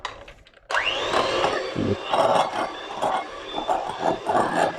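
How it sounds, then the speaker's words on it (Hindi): Electric hand mixer starts abruptly and whirs loudly while beating butter and sugar for a lemon cake, a close steady motor whine with fluctuating grinding as the beaters move through the bowl, with no talk. "अब आपको आवाज़ आएगी तो आपको बर्दाश्त करनी पड़ेगी, क्योंकि मुझे इसको बीट करना है"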